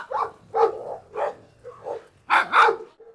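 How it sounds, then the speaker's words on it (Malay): Several dogs at an animal shelter bark loudly and close by in a series of sharp, uneven bursts, with the last pair of barks coming in quick succession. "anjing menyalak dari setiap arah"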